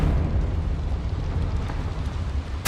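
A fire spell explosion cast in the video game Hogwarts Legacy, a loud, dense rumbling blast that roars steadily and ends with a sharp burst.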